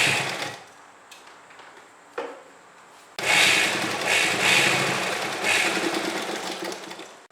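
A sewing machine runs stitches along a strip on a child's kurta made from leftover fabric, with a short burst and faint rattles first, then a long, loud, steady run of rapid stitching until the end, with no talk.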